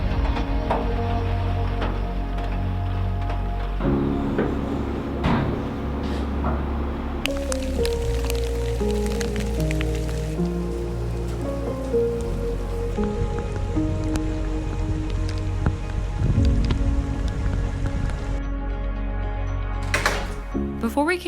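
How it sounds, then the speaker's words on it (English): Rain falls steadily on a hard surface, a dense patter of drops and drips that continues throughout, with occasional muffled voices in the background. "it's raining still"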